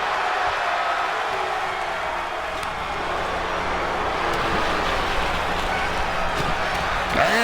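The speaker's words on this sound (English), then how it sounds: "Big right hand from Mr. USA, crowd explodes." A professional wrestling crowd at a main event roars and cheers in a steady, dense wash of noise that holds throughout, with scattered shouts and claps rising from the mass of spectators.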